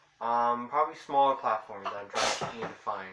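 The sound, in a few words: sneeze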